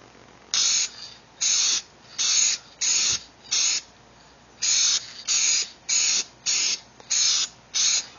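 A spray gun lays a heavy first coat of paint on a Mitsubishi Eclipse car part in a series of about eleven short, even hissing bursts with brief pauses between them, close and fairly loud with no talking.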